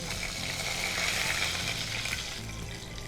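Whole garam masala spices, cloves, star anise, cinnamon and bay leaf, frying in ghee, giving a continuous soft sizzle that holds steady and eases slightly toward the end.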